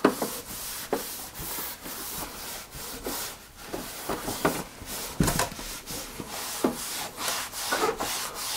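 Rhythmic rubbing strokes of a microfiber cloth wiping PC parts, repeated brushing swishes at a steady pace, close and fairly loud.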